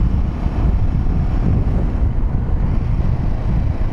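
Wind roars inside a motorcycle helmet while riding a Royal Enfield Himalayan 450, a loud, continuous low buffeting rush close to the ears with no break.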